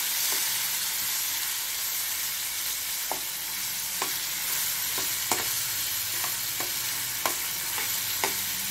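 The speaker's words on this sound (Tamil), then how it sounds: "இந்த கடாயில் எண்ணெய் ஊற்றி இருக்கிறோங்க, அது சிக்கனை பொறிச்சு எடுத்துக்கலாங்க" Chicken fries in oil in a kadai over a medium flame, giving a steady close-up sizzle and hiss with a few soft stirring clicks scattered throughout.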